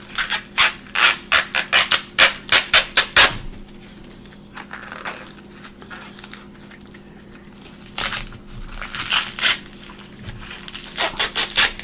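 Rough rustling and ripping of home-grown sweet corn husks being pulled apart, in quick bursts with a quieter pause in the middle.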